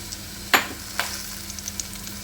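Semolina roasting in oil with green chillies, curry leaves and asafoetida, stirred in a pan: a soft steady sizzle with two brief scraping strokes of the spoon, close and alone.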